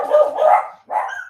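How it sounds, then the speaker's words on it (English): Dogs barking nearby, two loud close barks, the first drawn out and the second shorter after a brief pause. "we've got some dogs running around"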